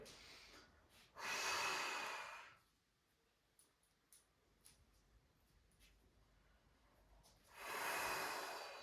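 Two deep, loud inhalations during a breathing exercise for abdominal strength, one near the start and one at the end, with a quiet pause between them holding faint small noises.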